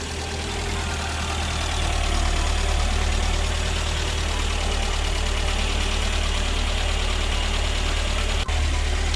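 Classic Mini engine idling while warming up, a steady loud low rumble with a slightly knocking, uneven texture, running continuously and close by.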